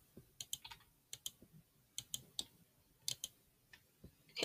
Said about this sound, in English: I also gotta do keyboard and mouse if you guys can hear.